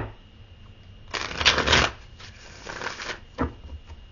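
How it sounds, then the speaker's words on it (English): A deck of tarot cards is shuffled nearby: a loud riffling burst, a second softer riffle, then a short crisp snap of cards settling, all without talk. "One more shuffle."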